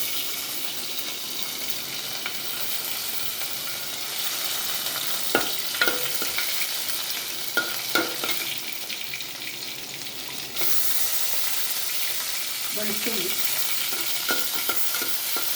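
Ginger sizzles and fries in a pan for a spicy Kerala-style sardine curry, a steady hiss close by with a few stirring scrapes and taps, the sizzle swelling louder partway through.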